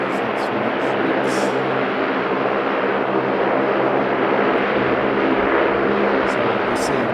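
A LATAM airliner taxis at Sydney Airport, its engines making a steady, loud broadband roar, while people talk over it.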